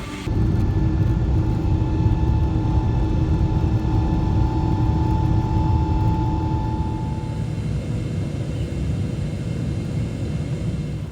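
A steady, loud engine drone fills an airplane cabin on a 15-hour flight to China, with a constant low rumble and faint steady tones that stay unchanged throughout.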